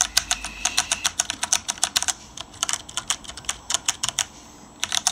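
Keys on a mechanical keyboard with stock switches and no O-rings are tapped along the bottom row in a rapid run of sharp, bright clacks, close and loud, with no talking.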